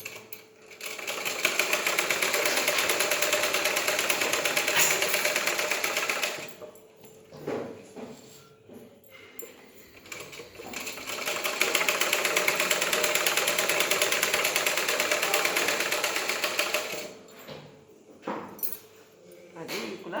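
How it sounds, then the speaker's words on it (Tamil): Sewing machine stitching two pieces of a frock together, running in two long steady bursts with a brief pause and lighter handling noises between them, close and fairly loud. "ரெண்டும் முதல்ல ஒன்றா தைச்சிக்கலாம்"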